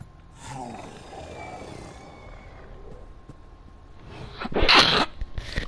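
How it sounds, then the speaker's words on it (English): A single sharp, explosive sneeze near the end, following a stretch of quiet background and faint indistinct sounds. "I had to blow my nose and it's like, oh, sneezing like crazy"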